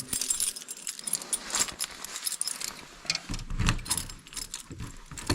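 A bunch of keys jangles and clinks in bursts close by as someone rummages for them, metallic rattles coming and going over a quiet background.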